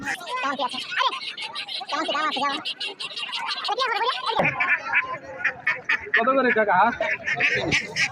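Ducks quack and honk busily amid a crowd, with people talking and bargaining over the birds throughout.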